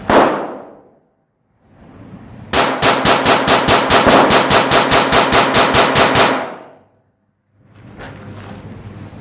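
A Glock 44 pistol fires CCI .22 LR lead round-nose rounds in a fast, evenly spaced string of about twenty loud, sharp cracks, preceded by a single shot and followed by fainter echoing pops.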